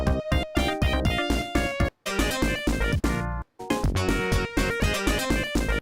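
Loud, dense, older-mixed music from the video game Sonic 3 & Knuckles, with a punchy rhythmic beat and bright melodic layers, broken by two abrupt brief dropouts, filling the space with no voices.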